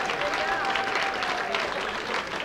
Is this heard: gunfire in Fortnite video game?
no